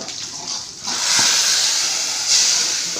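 Loud hissing sizzle of spices tempering in hot oil for a curry, a steady frying crackle that swells briefly and continues close by.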